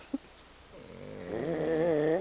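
Someone snores inside a tent, one long, loud, rattling breath that swells and holds after a brief quiet lead-in.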